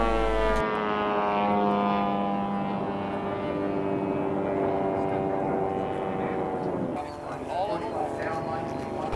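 Radio-controlled Edge 540 aerobatic model airplane, an American design, flying at a tournament of champions in Las Vegas; a steady whining engine drone with sliding pitch runs throughout, loud and continuous, while a voice talks over it.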